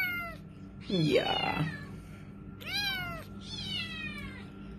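A young shelter kitten meows several times, with drawn-out rising and falling cries, close to the microphone. A person speaks briefly over the calls.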